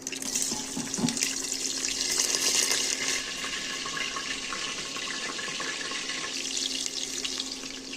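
Cold tap water runs steadily over cauliflower in a sink, a continuous close splashing rush with brief knocks near the start.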